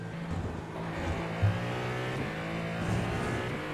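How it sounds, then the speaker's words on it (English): A race car's hybrid motor deploys in the iRacing sim, a sustained engine drone with a steady whining tone and a brief bump in loudness partway through, no voices. "So you can see the hybrid motor is deploying at the moment."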